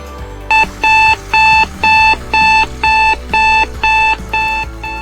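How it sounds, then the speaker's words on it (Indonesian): A loud electronic alarm beeping in a steady repeating pattern, about nine evenly spaced bursts, with a low hum underneath, a full-tank warning from a liquid waste treatment sensor. "limbah tersebut sudah penuh dan akan berbunyi, yang artinya itu adalah tanda peringatan"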